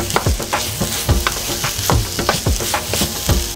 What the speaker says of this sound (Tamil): இப்போ நல்லா வதக்கிக்கோங்க